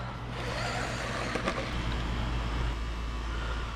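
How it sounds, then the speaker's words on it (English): An SG Pinecone Forest 1605 RC car with a brushed 390 motor driving on a driveway, its electric motor giving a steady whining drone with a low hum beneath, continuous and close. "So that's a brushed 390 motor going on in there. So we're going to take her out for a spin."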